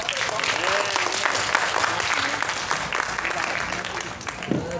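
Loud, sustained audience applause for a speaker at a music seminar, dense clapping from a full room, with voices mixed in throughout.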